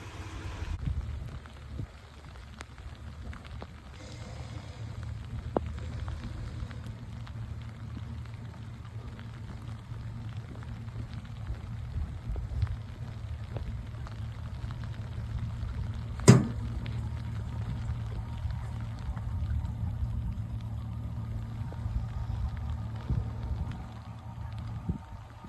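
Steady rain falls at a lake during a bass fishing outing, a continuous soft hiss and patter throughout with one brief sharp knock partway through, no talking.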